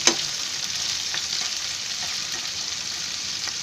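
Crab pieces sizzle and fry in a pan for crab curry, a steady bright hiss with a few soft scraping stirs, close and continuous throughout.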